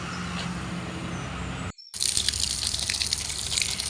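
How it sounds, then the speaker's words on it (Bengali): A public village water tap runs outdoors, a steady gush interrupted by a brief break, then splashing louder and brighter as the flow resumes close by. "এই যে এদিকে না একটা সরকারি জল কল এই যে এখানটায় সবার বাড়ির সামনে সামনে একটা করে কল বসানো রয়েছে"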